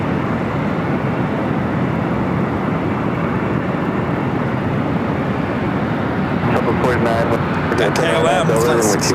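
KLM flight 604, an airliner at LAX bound for Amsterdam, fills the air with a loud, steady jet roar that swells toward the end, while someone talks over it.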